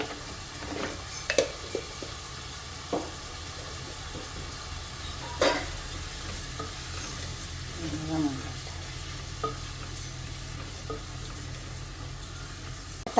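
Tomatoes with turmeric cook in a pan for palak curry, giving a low, steady sizzle broken by occasional scraping stirs and soft clinks of a spoon, with no one talking.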